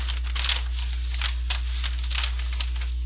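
Rustling and crinkling of cardboard and paper being handled up close, in irregular bursts over a steady low hum.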